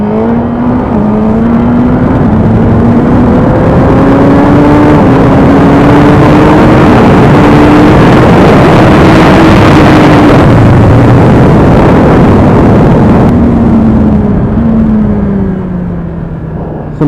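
A 2017 Suzuki GSX-R1000R sportbike engine roars continuously and loudly at close range. The pitch climbs and falls through gear changes as the bike accelerates, with heavy wind rush underneath.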